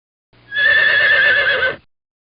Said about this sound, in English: Horse. Weeha, weeha.